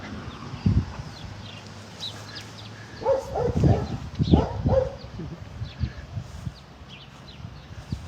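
Brita, a pet dog, gives a few short barks and whimpers, near and fairly quiet, over a busy background with faint footsteps.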